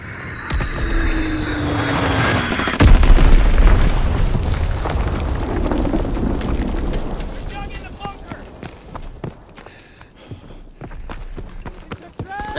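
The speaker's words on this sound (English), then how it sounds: "Fritz X bomb mission underway." Fritz X guided bombs explode in a Call of Duty WWII battle, a deep heavy boom rolling through dense combat noise, followed by a long rumbling fade with scattered gunfire and voices underneath.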